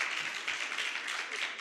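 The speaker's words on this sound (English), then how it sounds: "Now we can clap for each other." An audience at a physicians' association conference applauds steadily, a continuous patter of many hands clapping at moderate, fairly distant volume with no clear speech.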